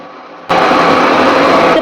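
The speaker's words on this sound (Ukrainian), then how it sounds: "тепер я потрошки починаю піднімати блендер" After a brief quiet hum, a blender abruptly switches on, whipping mayonnaise, and whirs loudly and steadily, a dense mechanical buzz that runs to the end.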